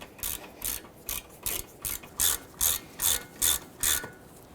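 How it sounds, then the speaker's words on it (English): A ratchet snugs down slider pin bolts on a 1999-2004 Jeep Grand Cherokee rear brake caliper, about eleven short bursts of rapid clicking in a steady, close rhythm, with no talk. "we can come back with our ratchet and snug those down"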